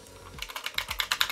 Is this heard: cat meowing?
no